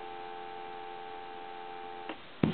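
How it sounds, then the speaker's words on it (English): A steady dial tone from an Automatic Electric Monophone telephone hums for about two seconds, then cuts off with a couple of clicks. "There's your dial tone."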